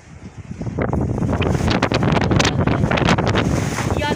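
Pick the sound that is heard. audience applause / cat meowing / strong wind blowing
strong wind blowing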